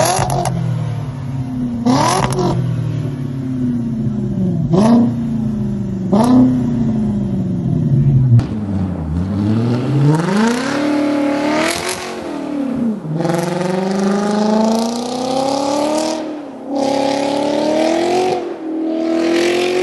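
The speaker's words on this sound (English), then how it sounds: "This car has such a unique engine sound." A Volkswagen engine with its mufflers removed revs hard, sharp throttle blips followed by rising and falling sweeps through the gears, loud and close with no talking.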